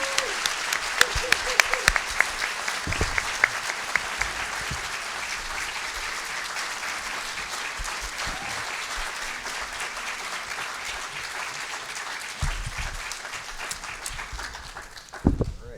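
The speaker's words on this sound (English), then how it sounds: "Let's give the candidates a round of applause." Sustained applause from an audience at a League of Women Voters candidates forum for the 3rd Berkshire District, dense clapping that carries on steadily and thins out near the end.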